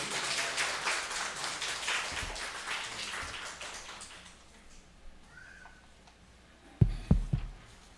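A church congregation applauds a member coming forward to give a testimony, with moderate clapping at the start that gradually dies away into quiet, followed by a few sharp, close thumps near the end.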